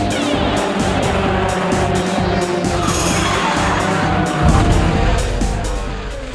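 Race cars at the Pau Grand Prix street circuit, engines roaring past in repeated loud, rhythmic bursts that swell and fade, with a crowd faintly audible and a voice speaking over the noise.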